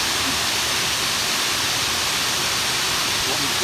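Delphi Falls waterfall pours in a steady, broad hiss of rushing water, constant and fairly loud throughout with no breaks.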